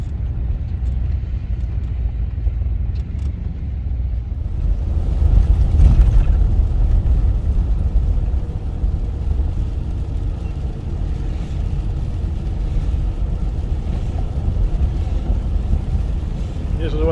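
Inside a car driving through Yellowstone National Park toward West Thumb Geyser Basin, a steady low engine and road rumble fills the cabin, swelling briefly louder before settling back to an even drone.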